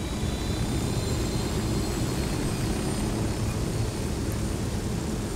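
Constant loud rotor and engine drone of a helicopter in the video game Ghost Recon Wildlands, a dense steady roar with no pauses or voices.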